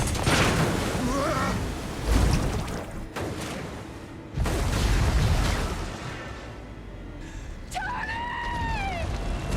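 Heavy blasts from a bomb in Iron Man 3 boom and rumble in several bursts, mixed with screams and chaotic crowd noise at a moderate level.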